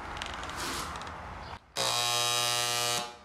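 A cheap $20 electric paint spray gun, first a hissy spraying rush, then after a short break a loud, steady close buzzing drone lasting over a second before cutting off.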